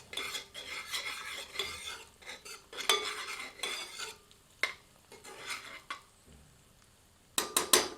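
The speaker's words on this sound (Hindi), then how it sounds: "प्याज को मध्यम आंच पर धैर्यपूर्वक भूनते रहते हैं जब तक कि यह स्वर्णित आभा से परिपूर्ण नहीं हो जाती।" Chopped onions being stirred and sautéed in a pan over medium heat, heard as a steady run of scraping spoon strokes and clinks against the metal with a faint sizzle underneath, fairly quiet and close.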